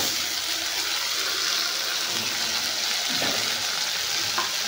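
Tomatoes dropped onto lightly browned onions frying in a pan give a dense, constant sizzle with a few soft stirring clinks, close up and with no one talking.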